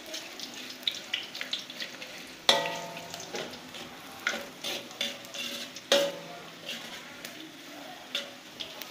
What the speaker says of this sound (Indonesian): Ongseng bawangnya biar harum